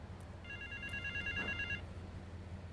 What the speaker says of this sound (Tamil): மறுபடியும் ஃபோன் கால் வருது